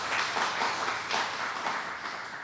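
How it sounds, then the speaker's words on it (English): Workshop audience applauding a professor's introduction: steady, dense clapping that carries on evenly throughout, moderately loud and unaccompanied by speech. "Give him a round of applause, please."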